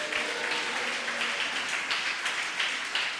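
A church congregation at Sunday worship claps together, a steady dense wash of hand claps sustained evenly throughout with no talking over it.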